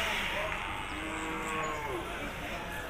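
A buffalo calf lowing at a riverside buffalo market, a drawn-out moo rising and falling over steady crowd noise and faint voices.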